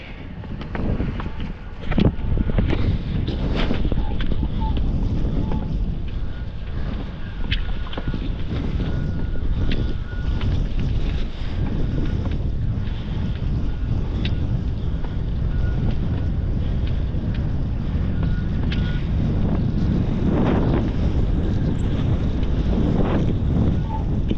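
Wind while parawinging on open water with a five-metre wing, a constant heavy rushing buffet across the microphone with occasional sharper gusts and splashes throughout.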